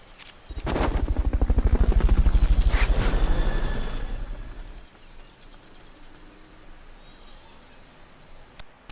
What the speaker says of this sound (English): The recovery helicopter is complete.